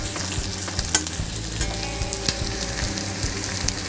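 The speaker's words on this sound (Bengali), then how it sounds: "পেঁয়াজটা হালকা বাদামি কালার করে নেব।" Onions fry in hot oil to a light brown, a steady close sizzle with occasional stirring scrapes, made while preparing Bengali ridge gourd paste (jhinge bata).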